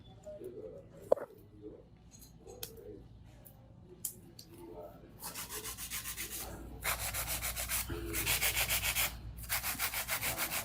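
A nail file rasps across gel nails, first in scattered soft strokes under quiet talk, then in steady rhythmic back-and-forth filing that grows louder toward the end.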